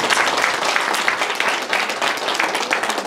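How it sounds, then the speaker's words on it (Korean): Steady applause from a seminar audience welcoming a former dean of a Seoul National University graduate school of public health, dense clapping sustained evenly throughout with no voices. "자, 박수 좀 보내주십시오"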